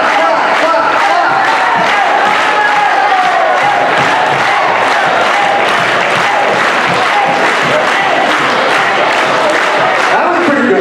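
A large school assembly crowd claps loudly and continuously in a high school gym, a dense roar of hands with shouting and cheering voices mixed in throughout.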